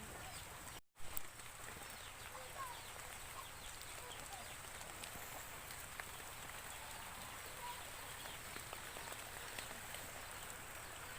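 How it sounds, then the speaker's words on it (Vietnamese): Heavy rain falls in a garden as a steady, dense hiss that continues unbroken, with faint bird calls in the background. "Đây nha các bạn, mưa lắm rồi."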